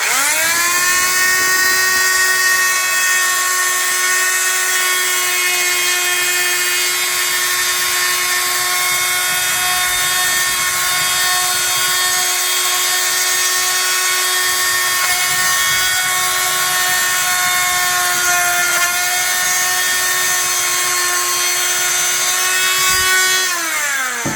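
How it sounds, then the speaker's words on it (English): A power tool cuts through the plastic of a Mercedes C-Class W204 xenon headlight housing, a steady loud high-pitched whine with a strong tonal buzz that runs continuously for the whole stretch with only slight shifts in pitch. "I have to cut exactly the same shape here and plastic weld it."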